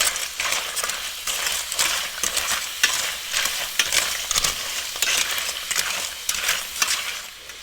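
Red pepper stirred in a hot pan for linguine with white clam sauce makes loud, rhythmic scraping strokes over a constant close sizzle, with light metallic clinks.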